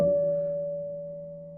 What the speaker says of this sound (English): like for example, a harmonic on a guitar